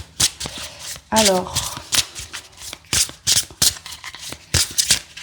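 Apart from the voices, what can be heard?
shuffling cards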